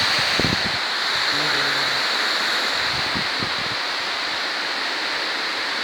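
A waterfall in a ravine in Israel gives a steady, broad rush of falling water close by, unbroken for the whole stretch, with a few faint low knocks and murmurs early on and no speech.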